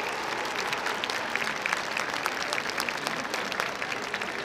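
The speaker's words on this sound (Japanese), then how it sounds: "大きな拍手をお送りください。" An audience applauds after an Okinawan Eisa dance performance at an arena stage, a dense, steady clapping from a large crowd lasting throughout.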